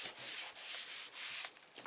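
Steady scratchy rubbing across the back of a paper card, a continuous close swishing with brief dips over two seconds.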